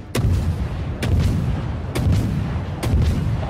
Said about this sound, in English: fires a full salvo in one shot.